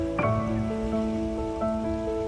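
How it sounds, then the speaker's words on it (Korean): Steady, broadband rush of running water like a stream at Jisan ski resort, continuous throughout, with a few faint tonal whistles drifting over it. "시냇물처럼 흐르는 소리가 들립니다"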